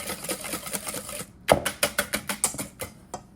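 A whisk beating batter for banana peanut butter oatmeal bars in a bowl, giving a quick series of close rhythmic taps and scrapes, first soft and then sharper and evenly paced.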